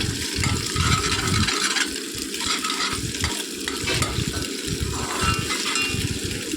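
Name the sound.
stirring and frying noodles in a pan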